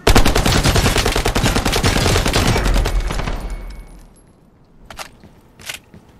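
Rapid bursts of gunfire from outside in the video game Lost Light, a loud dense volley for several seconds that fades, followed by two shorter distant shots.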